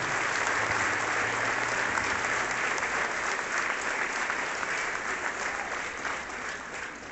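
Full, sustained applause from a crowd at a student interschool event in La Ciénega, Zimatlán, honouring a municipal education councillor; steady and fairly even, easing slightly toward the end.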